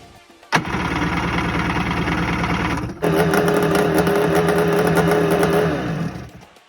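A Kawasaki jet ski engine, freshly fitted with crank seals and motor mount shims, cranks and catches almost instantly, then idles loudly in a steady, rapid mechanical rattle before cutting off.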